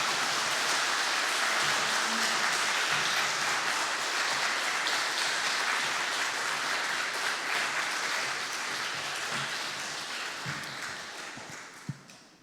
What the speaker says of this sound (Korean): 오늘도 우리에게 귀한 목사님을 보내주신 우리 하나님께 영광의 박수를 올려드리도록 하겠습니다.